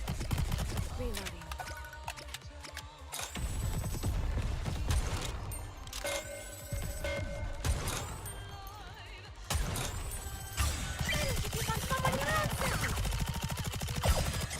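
Rapid gunfire in the mobile shooter Nikke, with repeated automatic bursts and single shots layered over game music and effects, loud and nearly continuous across the clip.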